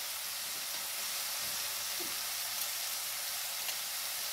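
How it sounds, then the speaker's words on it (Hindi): Spices hit browned onions in hot oil, giving a continuous, even sizzle close up, with no one talking, while potatoes are being prepared for a curry. "देखिए प्याज अच्छे से भून चुकी है, ब्राउन भी हो चुकी है, अब हम इसमें डालेंगे मसाले"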